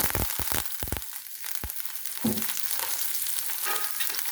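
Mustard seeds, green chillies, curry leaves and garlic frying in hot oil over a low flame, a loud, steady close sizzle with a few sharp pops and spoon scrapes early on, no voices.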